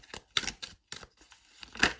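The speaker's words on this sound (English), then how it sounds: "Let's shuffle a little bit more because those were too many cards." A deck of tarot cards is shuffled by hand, giving a run of crisp, papery riffles and snaps in irregular bursts with short pauses between them. The sound is close and fairly quiet.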